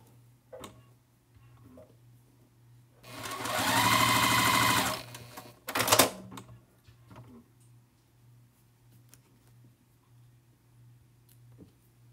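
A sewing machine stitches a wonky Christmas tree quilt top in one steady run of about two seconds, with quieter ticks and handling clicks before and after over a low electrical hum.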